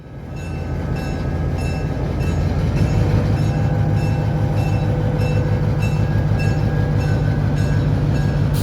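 A freight train rumbles steadily past in a train simulator game, with a continuous heavy rolling drone and faint rhythmic wheel clicks that build up and then hold.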